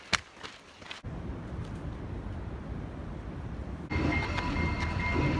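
A train pulls into the station at Machu Picchu in Peru, a low rumbling roll building steadily, then a louder burst of rail noise with bright metallic ringing near the end.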